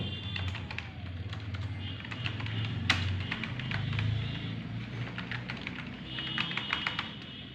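Computer keyboard typing in a quiet room, a steady run of light key clicks with a few sharper strokes.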